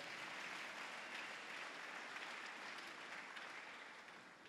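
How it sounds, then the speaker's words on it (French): Church congregation applauding together at a service, a dense, steady clatter of many hands that stays loud and even throughout, easing slightly toward the end. "Acclamons le roi des gloires."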